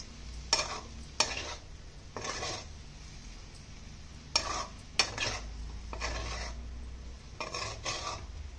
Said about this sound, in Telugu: వేసుకొని బాగా కలుపుకొని ఒక 5 మినిట్స్ మీడియం ఫ్లేమ్లో ఉంచుకుందాం.